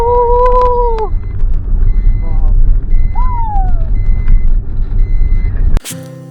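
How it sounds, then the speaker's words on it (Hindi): A car heads straight down a sand dune in the Jaisalmer desert near Tanot and Longewala, its engine a steady low rumble under a few thin whistling tones before the sound cuts off abruptly. "सैंड ड्यून से डायरेक्ट नीचे उतारते हैं गाड़ी को,"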